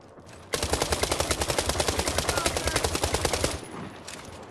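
A long burst of rapid automatic gunfire in the World War 3 video game, loud and evenly rhythmic for about three seconds, then cutting off to quieter battlefield ambience.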